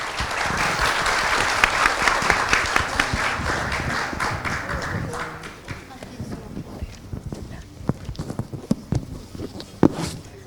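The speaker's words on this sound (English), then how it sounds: "please give them a round of applause for the very insightful discussion" A symposium audience applauds a panel at an ASEAN-Japan friendship commemoration. Loud, full clapping fills the first half, then thins out into scattered, louder individual claps and shuffling before dying away.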